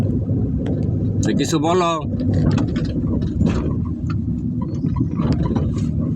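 A car driven on a long drive during a lesson from a Bangladeshi driving centre, heard from inside as a steady engine and road rumble under continuous talking voices.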